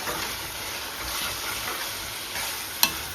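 Mutton pieces fry with onions in a hot pan, a steady close sizzle with soft stirring scrapes and one sharp clink near the end, no voices.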